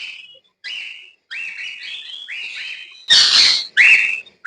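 Cockatiels giving a run of bright whistles and chirps in a bird farm, about seven separate calls close by, the last few louder and harsher, with nobody talking.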